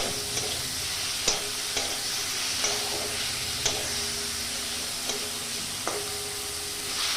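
Garlic and tomato frying lightly in a pan for chicken momo, a continuous hiss of sizzling with regular spatula taps and scrapes against the metal every second or so.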